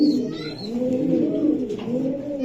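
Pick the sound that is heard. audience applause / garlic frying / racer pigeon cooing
racer pigeon cooing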